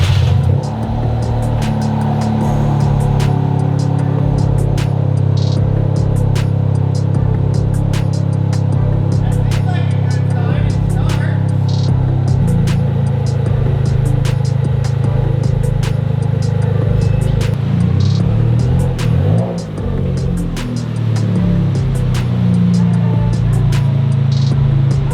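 Toyota GR Corolla engine droning steadily while driving, a loud sustained low hum with small shifts in pitch and a brief dip near the end; a voice may be faintly present.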